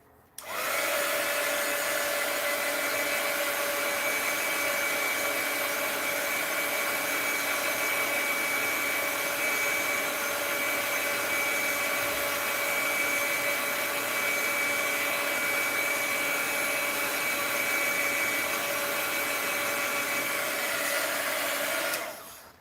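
A hair dryer blows continuously to dry a mixed media art piece, a loud steady whirring drone with a high whine that runs unbroken for about twenty seconds before cutting off.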